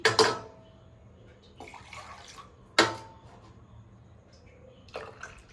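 Leftover water poured into a mixer jar while making ginger buttermilk: two short splashy bursts of pouring, with quieter sloshing between them and a fainter splash near the end.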